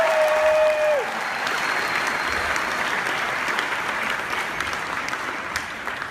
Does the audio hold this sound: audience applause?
yes